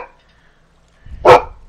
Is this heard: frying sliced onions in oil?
no